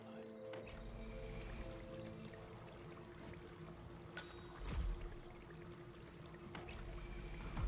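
A cold water tap runs steadily in the Hitman video game, a quiet continuous pouring hiss heard alone for several seconds, with a brief louder splash about midway.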